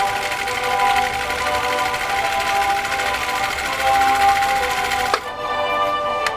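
A Husqvarna Viking CL21A sewing machine stitching through three layers of genuine cowhide leather, a steady whirring motor hum running throughout, with a brief clunk near the end.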